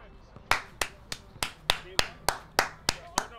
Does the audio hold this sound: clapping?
yes